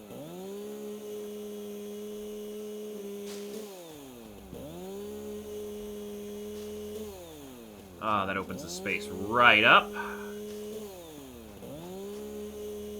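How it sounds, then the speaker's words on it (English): Chainsaw clearing foliage in the video game Satisfactory: a steady, buzzing engine drone that dips and rises in pitch as it revs, running through the whole stretch, with a voice speaking briefly over it midway. "I do apologize that the chainsaw is going to be kind of annoying sounding"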